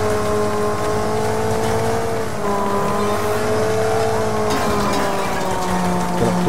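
A race car engine roars steadily in the Wreckfest video game's Bulldog Bash event, from a weaker car after a crash, its loud drone shifting pitch as it revs and changes gear, alone with no talk.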